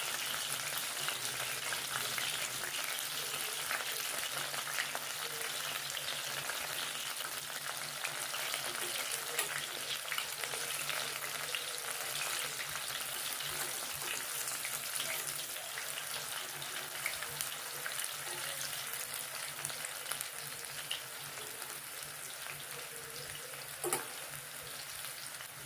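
Wild mushrooms fry steadily in a pan, a dense continuous sizzle and crackle of hot oil that stays even throughout with a brief clink near the end.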